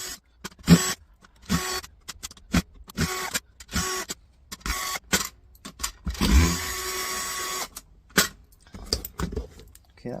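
Screws being removed from a Dell docking station during scrapping: a series of short, close clicks and scrapes at irregular intervals, with quiet gaps between them and one longer rattle near the middle.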